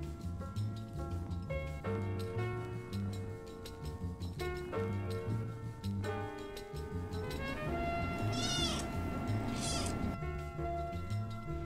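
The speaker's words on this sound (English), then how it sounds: "her scraggly meow was basically a room service bell" A young kitten fostered for swimmer syndrome meows repeatedly, scratchy calls coming close and loud in a steady series over soft background music.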